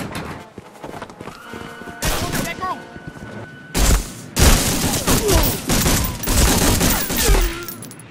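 Bursts of gunfire in the Medal of Honor Frontline video game crack out in loud, repeated volleys, with other battle effects mixed in and no talk over them.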